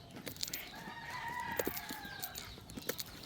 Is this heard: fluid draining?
no